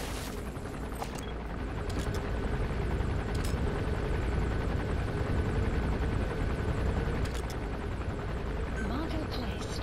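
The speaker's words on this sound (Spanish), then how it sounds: "Estoy escuchando aquí un helicóptero, tío." A helicopter in the Metal Gear Solid V game gives a continuous low rotor drone that fills the scene, with a few sharp clicks and bursts over it and someone talking across it.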